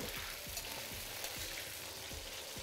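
Cauliflower pieces frying in oil over a high flame give a dense, steady sizzle. Soft, regular stirring knocks recur about every half second, heard up close and alone.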